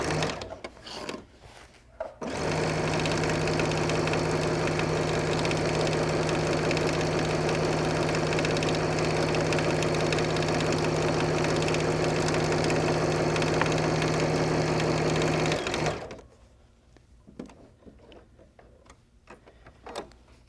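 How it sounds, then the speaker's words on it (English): A sewing machine stitches handbag pocket panels with a half-inch seam, running in one long, steady, mechanical whir for about thirteen seconds, framed by quieter handling clicks before and after. "We're going to sew them with a 1/2 inch seam allowance."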